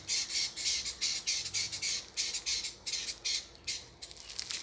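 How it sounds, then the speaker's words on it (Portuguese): Birds squawk repeatedly near their nests in grass during breeding season, a rapid series of loud, harsh, close calls in bursts with short gaps, continuing without talk. "A zoada deles. Aí, ó. É meio de passarinho."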